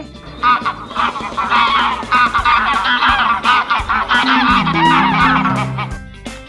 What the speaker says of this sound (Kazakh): Бұл қай құстың дауысы?